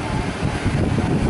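Air conditioning fan in a 2000 International 9200i truck blowing cold air, a steady close broadband whoosh that holds at an even level throughout, with no speech.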